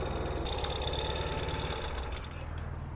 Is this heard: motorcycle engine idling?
yes